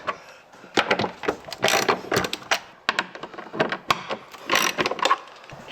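A hand ratchet fitted with a 13mm socket cracks bolts loose, giving bursts of sharp clicking pawl ratchets and metallic clacks in irregular runs, near and distinct.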